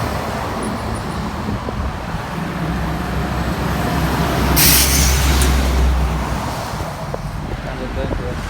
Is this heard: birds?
no